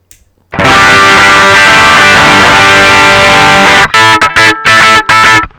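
An electric guitar played through a VOX Valvenergy Copperhead Drive valve preamp with the bright switch engaged gives a bright, crisp driven tone: a long sustained chord, then a burst of quick choppy strums, loud and alone.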